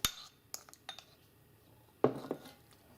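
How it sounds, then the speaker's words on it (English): A spoon stirs gimmari in a cooking pot, giving a few sparse, quiet metallic clinks and scrapes with gaps between them and a slightly busier scraping burst near the end. "we're going to give that a bit of a stir, just like so"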